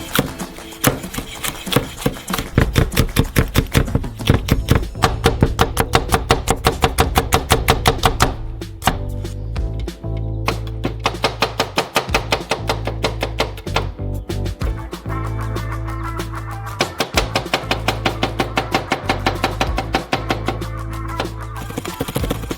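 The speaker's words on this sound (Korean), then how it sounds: "고추도 밑간할 거예요. 원형으로 썰어주세요." Rapid, steady knife chops slicing chili peppers into rounds on a cutting board, a long run of crisp taps with brief pauses between bursts.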